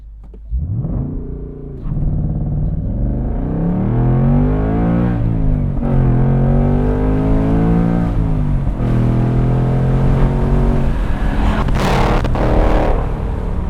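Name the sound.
2024 Ford Mustang GT 6-speed launching and accelerating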